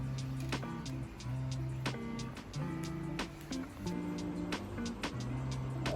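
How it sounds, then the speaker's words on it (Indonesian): Printer printing data sent from a laptop, its motor whirring in stepped tones with sharp ticks and clicks as the head moves back and forth, steady and close. "mengirimkan data ke printer untuk menghasilkan output, yaitu data yang dicetak"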